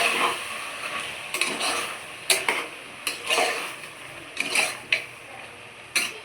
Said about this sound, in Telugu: ఇప్పుడు నేను దాంట్లో టమాటా వేస్తున్నాను. ఓకేనా? కలుపుకున్నాను.